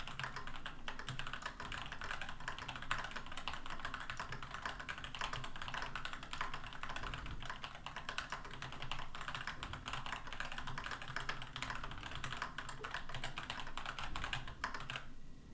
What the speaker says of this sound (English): I'm just going to take a 15-second typing test and see how it goes.